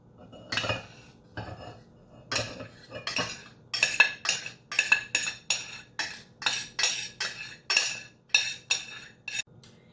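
Cooked fluffy rice spooned into a bowl for a spinach and pistachio side dish: a steady series of about sixteen distinct spoon-on-bowl clinks and scrapes, close and clear, with no talking.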